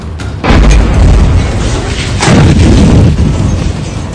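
A massive explosion in Kharkiv booms out in news footage, two heavy blasts rolling into a long, loud, rumbling roar with deep low-end thunder.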